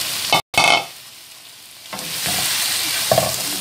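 Mussels sautéing in a hot pan, a loud sizzling burst as they drop in, a brief gap, then a steady crackling fry with a few scraping stirs.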